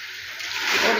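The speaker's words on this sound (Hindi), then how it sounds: "इसके साथ हम हाफ कप पानी ऐड कर देंगे" Half a cup of water poured into a pan of beef with spices and onion for a tinda gosht curry, a brief rushing splash that swells louder toward the end.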